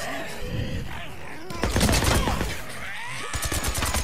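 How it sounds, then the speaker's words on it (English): Bursts of rapid gunfire in the video game Days Gone crackle loudly in two clusters, with shouting voices and a groan mixed in amid the chaotic action. "I hear gunshots."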